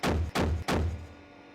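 A CV9035DK infantry fighting vehicle's 35 mm cannon fires three heavy, booming rounds in quick succession, each a deep thud with a ringing tail, the last one decaying into quiet.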